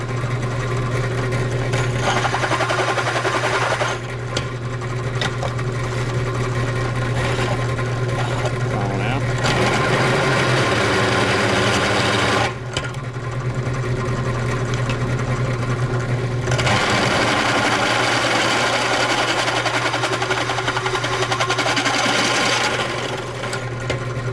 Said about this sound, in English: It's a nice sharp drill bit.